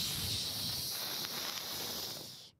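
A voice imitates a cat's hiss in the game Suck Up, producing a sustained breathy hiss for about two seconds before it cuts off abruptly.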